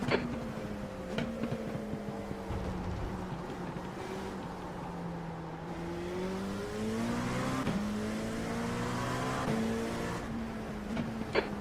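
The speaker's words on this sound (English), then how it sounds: "There's a faster class car approaching." A race car engine in iRacing at Laguna Seca whines and shifts pitch as a faster-class car passes, with another engine revving alongside and brief gear-change blips.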